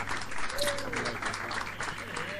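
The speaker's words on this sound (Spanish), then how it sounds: "fuertes aplausos al Señor" A congregation applauds at a Spanish-language revival conference in a church, a steady wash of clapping with voices and an exclamation mixed in.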